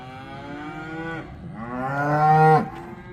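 Cows on a farm mooing, calling out for their calves: two long, loud, close bellows, the second rising and stronger before cutting off.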